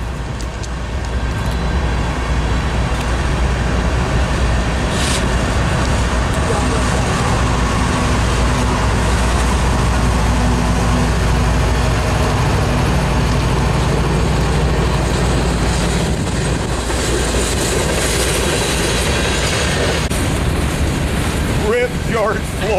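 A heavy freight train led by a Union Pacific Tier 4 GE locomotive rumbles past nearby with a loud, continuous low roar and rattling wheels, swelling and shifting as the cars go by.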